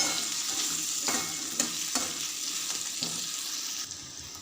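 A potato and capsicum curry is stirred in a pan while it sizzles steadily. A spoon scrapes the pan in a few soft, irregular strokes over the continuous frying hiss, and no one is talking.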